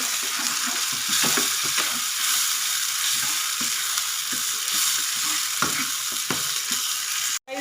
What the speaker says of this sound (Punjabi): ਪਿਆਜ਼ 골ਡਨ ਬ੍ਰਾਊਨ ਹੋ ਗਿਆ ਤਾਂ ਹੁਣ ਇਹਦੇ ਵਿੱਚ ਪਾ ਦਾਂਗੇ ਟਮਾਟਰ ਲਸਣ ਅਦਰਕ ਦਾ ਪੇਸਟ